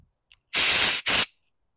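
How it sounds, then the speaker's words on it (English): Compressed air blown through a lawn mower carburetor float valve on a PowerSmart 144 cc engine: two loud, close hissing blasts, a longer one and then a short second burst, with silence around them. "Blast some compressed air through my float valve there."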